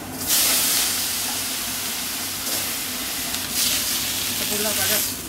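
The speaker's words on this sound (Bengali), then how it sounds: "মাছ ভাজা গেল" Koi and shing fish frying together in a pan, a steady loud sizzle that swells in bursts, with voices talking over it.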